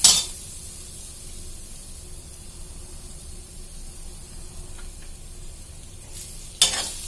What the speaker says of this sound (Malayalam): ഇതൊന്ന് ചൂടാക്കിയിട്ട് കുറച്ച് വെളിച്ചെണ്ണ വെച്ചിട്ട് ഇതിൽ നിന്ന് നമുക്ക് വറുത്തെടുക്കാം